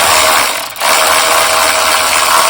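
A socket ratchet clicks rapidly and continuously, loud and close, while loosening a bolt on a Honda engine, pausing for a moment before resuming.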